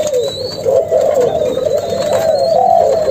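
A Malaysian spotted dove coos steadily in soft, repeated rounded phrases, close and clear over a constant background hum.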